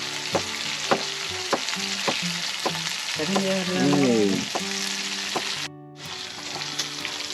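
Hunted sparrows frying in a pan of oil, a loud continuous sizzle with sharp spatters and stirring clatter, briefly cut off near the end, while people talk casually nearby.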